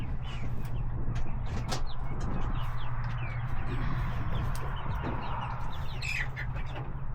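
Chickens cluck and chirp intermittently against a steady low hum, with occasional knocks and rustling nearby.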